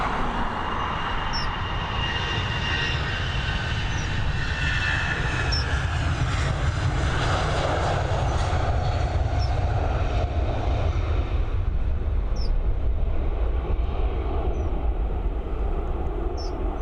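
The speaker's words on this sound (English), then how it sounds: "Here we go, we've got this Airbus A320." Airbus A320 taking off from Dublin Airport into fog, a loud, steady broadband jet engine roar sustained throughout, close and continuous with no voices.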